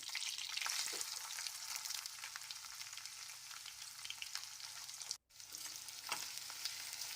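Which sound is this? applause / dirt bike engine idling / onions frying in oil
onions frying in oil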